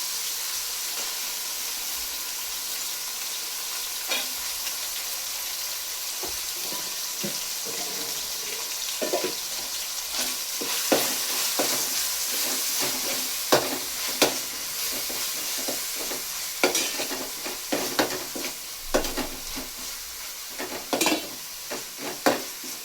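Mint, coriander and masala fry in a pan, giving a soft continuous sizzle and hiss with occasional utensil taps and stirring knocks growing more frequent toward the end, with no voices.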